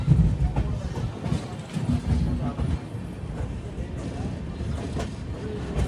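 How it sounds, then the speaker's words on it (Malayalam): The Himsagar Express rolls toward Bhopal with a low, steady rumble of wheels and carriages, heard from inside the train with faint rhythmic clatter throughout. "മധ്യപ്രദേശിന്റെ ക്യാപിറ്റലായ ഭോപ്പാലിലേക്ക് ഇതാ ട്രെയിൻ എത്തുകയാണ്."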